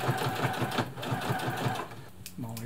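A Brother Extra Tough sewing machine back-stitches through denim, its needle thumping in a fast, steady rhythm close by. The run stops near the end, followed by a brief softer mechanical sound, and a voice is faintly present.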